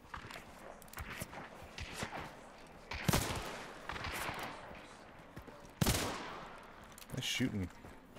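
Gunfire in a shooter video game: scattered sharp shots and a few heavier bursts over a low ambient bed, with footstep-like clatter between them.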